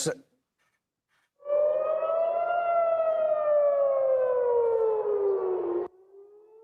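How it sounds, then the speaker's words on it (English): A civil defense siren wailing over Jerusalem, one long sustained rising-then-falling tone lasting several seconds, loud and clear after a brief click and a moment of silence, then cutting off abruptly. "siren sounding over Jerusalem earlier, sending people running for shelter"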